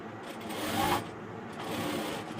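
A sewing machine stitches a velvet collar-neck A-line top, giving a soft, steady mechanical whirr that rises briefly and continues quietly.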